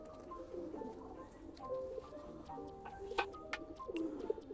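Madrasi pigeons coo softly and repeatedly in a loft, with a steady low murmur of cooing, scattered chirps and small sharp bird calls near the end.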